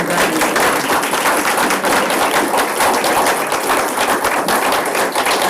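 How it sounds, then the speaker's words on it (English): A school board meeting crowd gives a round of applause: dense, steady clapping that stays loud and even across the whole stretch, with no voices standing out. "Please join me in a round of applause"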